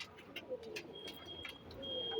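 Pigeons, Tambay or Tambray breed kept by a fancier in Jammu, give soft low coos mixed with brief chirps, faint and close, over a quiet background with a thin steady tone.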